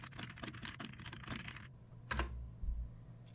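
Rapid typing on a computer keyboard, a quick run of light, close key clicks for about a second and a half, followed by a pause and a couple of heavier thumps.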